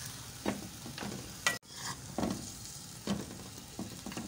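Beef browning with yogurt and green chillies in a pot for yakhni pulao, a soft sizzle broken by repeated scraping stirs, one sharp clank of the spoon against the pot midway.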